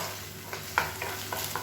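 Egg mixture being stirred in a hot pan for chilli egg noodles, a soft steady sizzle with a few light scraping strokes of the utensil at irregular intervals, close and fairly quiet, no talking.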